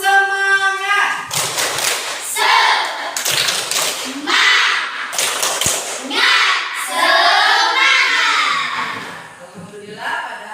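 A primary school class claps a rhythmic chant together, loud group clapping in patterned bursts mixed with children's chanting voices in a classroom.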